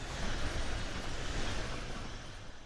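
A train passes steadily on the Schnellfahrstrecke high-speed line in Train Sim World 2, a continuous rumbling roar with faint rail clatter that fades slightly toward the end, with no talk.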